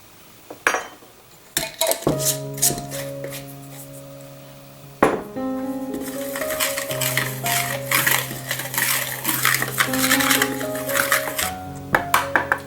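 Dry baking ingredients, including baking soda, are mixed in a bowl: a utensil scrapes and clinks against the bowl in quick bursts, with ringing metallic tones and short pauses between strokes.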